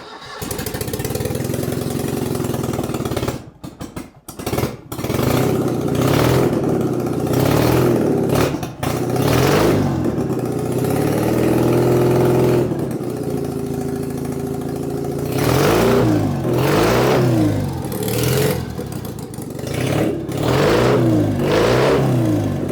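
A Citroën 2CV's small engine runs on a noisy trial run with its carburetor just reconnected, roaring and revving unevenly with brief cut-outs, then settling into a loud, rough, continuous drone.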